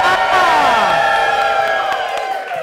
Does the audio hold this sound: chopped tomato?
no